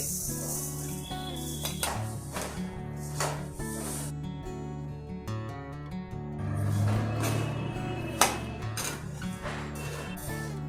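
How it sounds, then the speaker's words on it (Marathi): Dried rice dry-roasted in a pan, a continuous rustling hiss of grains being stirred and scraped, with music playing underneath. "हे 5-10 मिनिटं सुकवलेले तांदूळ आता भाजून घेते."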